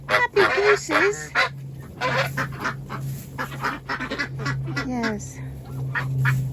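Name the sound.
geese honking in a tunnel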